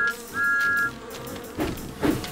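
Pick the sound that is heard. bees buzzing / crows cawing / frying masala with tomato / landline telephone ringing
bees buzzing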